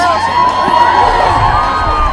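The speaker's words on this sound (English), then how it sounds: "What a great crowd out there tonight" Crowd of people cheering and whooping at an evening outdoor event in Hastings, a brief burst of massed voices and shouts, loud and close.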